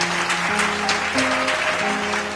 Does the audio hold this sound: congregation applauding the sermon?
yes